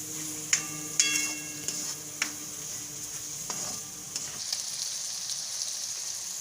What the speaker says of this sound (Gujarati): એક આધી મિનિટ જેવું આપણે ટમેટાને સળવા દેવું